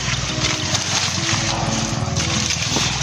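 Water gushes and splashes from a pump into a cornfield, a loud, continuous rushing wash mixed with a steady engine rumble nearby, with no talking.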